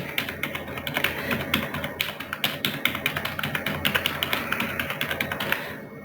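Numbers being typed on a computer keyboard into an Excel spreadsheet, a close, rapid run of crisp key taps in an uneven rhythm, continuing steadily without speech.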